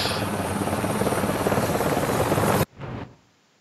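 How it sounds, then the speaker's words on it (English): A helicopter arrives in the video game Wolfenstein: The New Order, its loud, steady rotor thrum filling the scene before cutting off abruptly, followed by a brief fading rumble. "in the end, the helicopter comes in"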